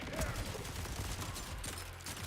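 Gunfire from the video game Borderlands forms a dense, continuous rattle of shots at steady loudness, with rumbling low-end impacts throughout the brief burst.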